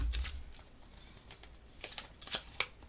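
A deck of tarot cards is shuffled by hand at close range, giving soft papery riffles and brisk flicks in uneven bursts, quiet and with no talking.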